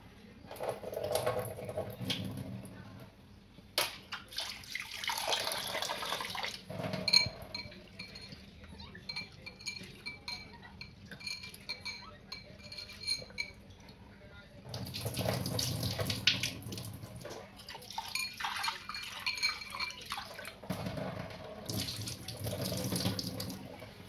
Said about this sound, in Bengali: সুন্দর করে আমি ডালটা ধুয়ে নিচ্ছি